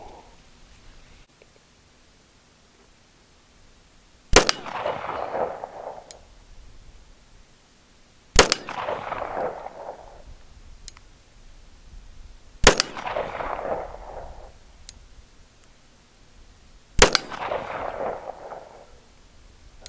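Four loud, evenly spaced gunshots from a Springfield Armory 1911 TRP pistol firing Berry's 230 gr round-nose and 185 gr loads at an outdoor range, each a sharp crack trailing into a rumbling echo, with quiet between shots.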